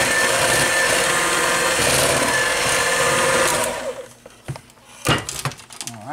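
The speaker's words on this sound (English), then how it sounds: "blender." An electric blender whirs loud and steady for about four seconds while making pumpkin bread batter, then cuts off, leaving scattered clunks and knocks of handling in the kitchen.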